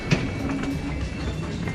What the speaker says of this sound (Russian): И вот я в поезде на Дартфорд.